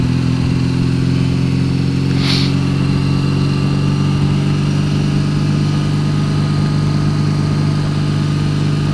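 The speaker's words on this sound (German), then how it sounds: "das erste Mal im Leben Motorrad zu fahren." Motorcycle engine droning steadily while riding on a road toward Lauenburg, a constant low hum with wind noise throughout and no change in pace.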